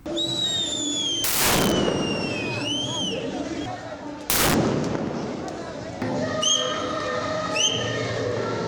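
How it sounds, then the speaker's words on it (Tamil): Firecrackers go off at a fan celebration of a digitally re-released MGR film, with two sharp, loud bursts a few seconds apart over crowd noise and shrill whistles. "ரசிகர்கள் புரட்சி தலைவர் எம்ஜிஆரின் படத்திற்கு மாலை அணிவித்து பட்டாசுகள் வெடித்தும் இனிப்புகள் வழங்கியும் நடனமாடியும் தங்களின் மகிழ்ச்சியை வெளிப்படுத்தினர்."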